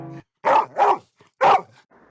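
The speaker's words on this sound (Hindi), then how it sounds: "एक दिन जब डॉगी भौंकता है" A dog barks in a quick burst of three loud, close barks, preceded by a brief tonal snippet and followed by a faint tail of sound, in a Hindi animated story.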